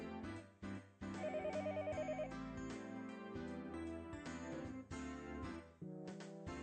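A phone rings in Higurashi When They Cry as a melodic electronic ringtone, repeating musical phrases in bursts with short gaps, clear and alone with no talk.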